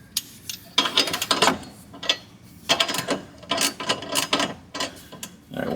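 A ratchet clicks in quick, uneven bursts as it works a bolt loose while jacking rails and a subframe support are fitted under a car, close and fairly loud with short pauses between strokes.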